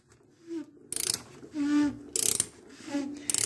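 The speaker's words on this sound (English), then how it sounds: "We need a 1 1/8 socket to get the lid off." A ratchet with a 1 1/8 socket loosens the fuel filter canister lid on a 2003 Dodge RAM 3500 dually, giving several close, short bursts of ratcheting clicks separated by pauses.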